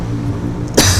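A single sharp cough bursts out near the end after a brief stretch of low background hum.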